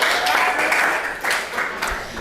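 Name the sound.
audience applause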